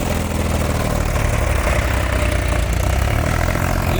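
A tractor engine idling, a steady low rumbling drone that stays even and loud throughout, with no talk over it.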